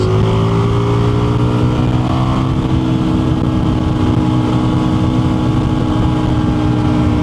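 An Indian FTR 1200 motorcycle engine drones loud and close in a steady, sustained roar with no pause, its pitch holding fairly even throughout.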